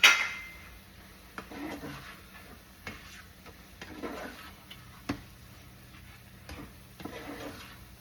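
Shrimp and bacon-spinach risotto are stirred in a pan, producing faint, scattered soft scrapes and light taps against a quiet background after a sharper knock at the start.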